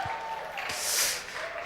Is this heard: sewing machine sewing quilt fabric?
no